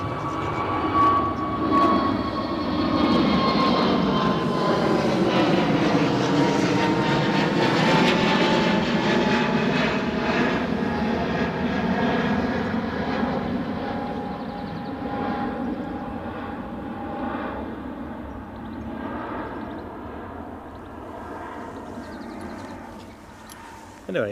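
A British Airways jet airliner at Newcastle Airport roars steadily with a whining, shifting engine tone that slowly fades, while someone talks over it throughout.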